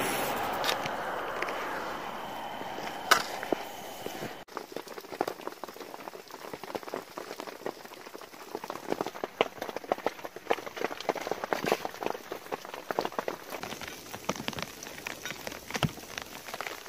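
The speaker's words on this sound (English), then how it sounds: "Been raining." Rain falls on a surface in a dense, steady patter of many small drops throughout, fairly close, with no voices over it.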